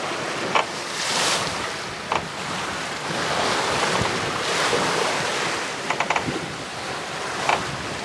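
Atlantic ocean waves surge and crash around a rocking sailboat in rough seas, a continuous loud wash of water with wind buffeting the microphone and a few brief knocks and creaks from the boat.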